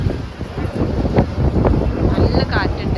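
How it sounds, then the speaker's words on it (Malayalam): Strong wind buffets the microphone outdoors during a trip in Macau, giving a loud, gusty low rumble throughout with possible faint voices beneath. "നല്ല കാറ്റുണ്ട്."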